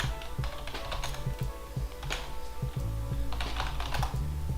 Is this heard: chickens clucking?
no